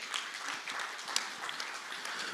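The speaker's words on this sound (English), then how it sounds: "Let's give a round of applause." A panel-discussion audience applauds in a steady, faint patter of many hands clapping, unbroken and with no voices over it.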